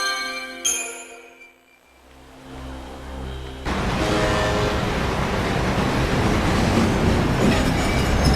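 A train in the game Lightning Returns: a sustained tonal hum swells and fades, then a heavy, dense rumble of rolling wheels and rattling carriages takes over, loud and continuous, with no voices.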